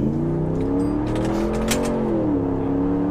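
A very large truck's engine drones loudly and steadily as it pulls away, pitch rising gently under acceleration, with a faint whir and no speech.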